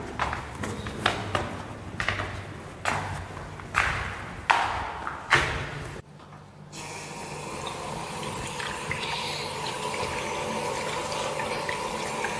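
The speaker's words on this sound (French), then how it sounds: "On tourne le robinet et l'eau coule." Water runs steadily from a turned-on household tap, a continuous close hiss that settles in after a few sharp knocks and bumps, with no talking.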